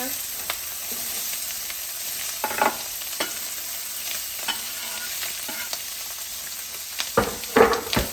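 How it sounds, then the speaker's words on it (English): Sausage sizzling in a very hot skillet, a steady close frying hiss broken by a few louder bursts of spattering and pan-scraping stirs. "We're gonna add our sausage to our pan here."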